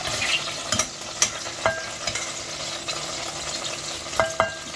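Spices dry-roasting in a pan over slow to medium flame for brinjal kuzhambu, a soft continuous rustle and faint sizzle broken by sharp scraping taps of a spatula stirring, close up.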